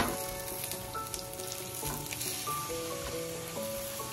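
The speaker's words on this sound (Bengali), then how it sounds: "এবার চারপাশ দিয়ে সাদা তেল আমি দিয়ে দেবো" Cheesy garlic paratha frying in white oil poured around its edges, giving a steady close sizzle with soft crackling, no voices.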